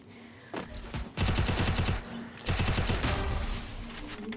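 Rapid automatic gunfire in the mobile battle royale game Free Fire, two loud sustained bursts of fast rhythmic shots separated by a short pause, with fainter shots trailing afterward.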